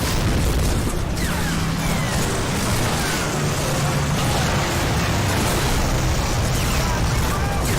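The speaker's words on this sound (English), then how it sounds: "Slowest cannon launch." A cannon launch and explosion in the video game Medal of Honor Frontline: loud, continuous booming rumble with dense blast noise filling the whole stretch, heavy and close throughout.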